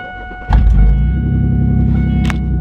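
A minivan engine with its exhaust fallen off starts with a sudden thump at about half a second, then settles into a loud, deep, steady rumbling idle with a faint electrical whine running throughout.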